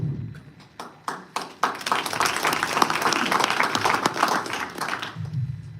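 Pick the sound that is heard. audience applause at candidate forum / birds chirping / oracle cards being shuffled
audience applause at candidate forum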